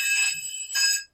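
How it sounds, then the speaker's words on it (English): An alarm bell sounds in two short bright bursts separated by a brief gap, shrill and clear, each lasting a fraction of a second before cutting off. "That was the alarm"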